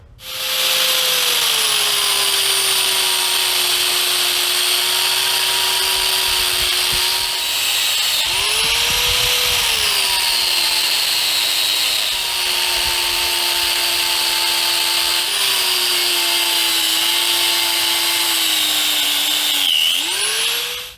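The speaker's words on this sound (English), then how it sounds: "this is a cutoff wheel, made for metal, but generally cuts through anything you send it through" A metal cutoff wheel slices through a rubber snowplow cutting edge, giving a loud, continuous high-pitched grinding whine that dips and recovers as the blade bogs under load, with no talking.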